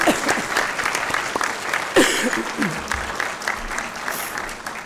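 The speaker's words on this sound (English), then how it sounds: "Please acknowledge their contribution with a round of applause." Audience at a West Virginia University at Parkersburg spring commencement applauding the staff, a full, close burst of clapping across a large hall with occasional louder claps and faint voices mixed in.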